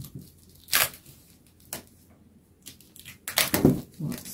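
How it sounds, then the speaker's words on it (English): Stiff plastic packaging around Jenga-style wooden blocks being torn open by hand, several crisp ripping bursts with short pauses, close and fairly loud, ending in a flurry of crinkling tears. "Let me tear it open here."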